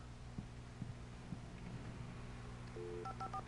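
Touch-tone keypad beeps of a phone behind a sheriff station counter in the Alan Wake video game, a short run of several dialing tones near the end over a steady low hum and faint pulsing, with no talk.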